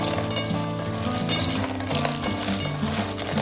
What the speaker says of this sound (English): we add our vongoli, the clams. So you just mix them up.